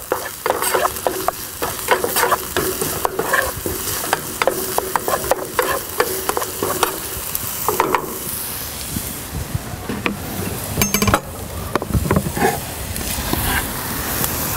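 Onions sweat in a hot pan over a grill for chanterelle sauce, a close hissing sizzle broken by frequent sharp taps and scrapes of a utensil stirring.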